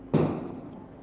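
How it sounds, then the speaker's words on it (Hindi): A Diwali firecracker bursts outside with a single sudden boom that decays into a rumbling tail, heard fairly close. "पटाखे लगातार चलते रहेंगे"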